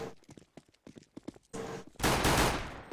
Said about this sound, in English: he gets shot by Windansky